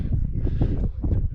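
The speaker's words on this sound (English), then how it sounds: "Really windy now." Steady, low rushing wind buffets the microphone for a second or so on a cold mountain top in the Langdale Pikes, Lake District, a continuous roar with no voices.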